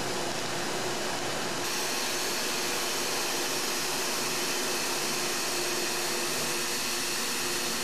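Thermo cutter slicing a one-inch rubber strip off a roller at about 30 feet per minute, a steady broadband hiss and whir with no pauses, loud and close, with a slight shift in tone early on.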